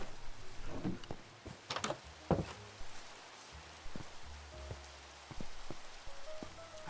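Rain falls in the Minecraft video game, a soft patter of scattered drops with intermittent thumps and clicks from play, fairly quiet and steady, with no talking.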